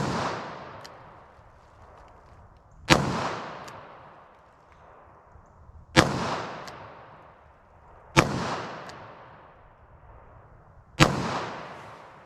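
Five sharp, loud single-action shots from a Taurus revolver fitted with a Crimson Trace sight, spaced a few seconds apart outdoors, each crack trailing off in a long echoing decay.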